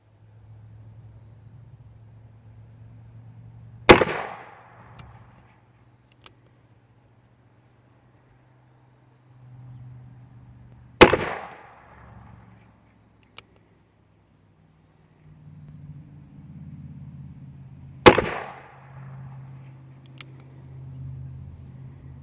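A 1905 Smith & Wesson revolver chambered in .32-20 fires three sharp, loud shots several seconds apart outdoors, each followed by a brief ringing decay, with quiet background hum and small clicks between.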